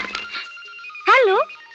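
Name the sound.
telephone ringing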